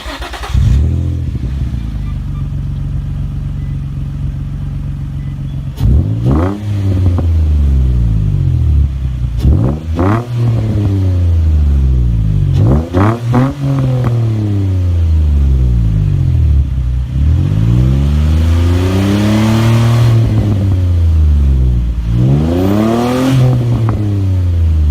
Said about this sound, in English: The first exhaust is from DNA Motoring.